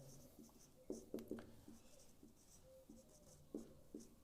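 Handwriting during a physics lesson, faint scratchy strokes coming in short, irregular bursts with brief pauses between words.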